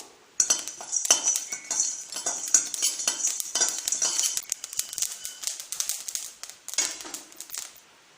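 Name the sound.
black pepper and fennel seeds dry-roasted in a pan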